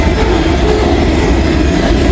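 Freight train boxcars roll past close by in a loud, steady rumbling roar with a faint rhythmic rail clatter, continuous throughout with no voices.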